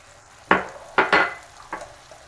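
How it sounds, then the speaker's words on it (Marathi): Carrot halwa being stirred in a pan with added cashews, pistachios and almonds, giving four or five distinct scraping, clattering strokes spaced irregularly, close and fairly loud, with no voices. "हे सर्व मिक्स करून घेते"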